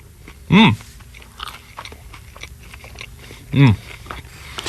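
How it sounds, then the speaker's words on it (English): Crunchy bites into a crispy bagel on a radio show, with chewing textures between bites; in between, two loud tonal vocal sounds stand out over a steady room background. "Oh, listen to that crunch."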